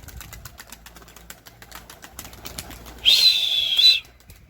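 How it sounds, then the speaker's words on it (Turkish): Faint background rustle, then a burst of rapid wing flapping as young pigeons take off nearby during training, lasting about a second. "Gördüğünüz gibi böyle hızlı çıkıyor benim kuşlar."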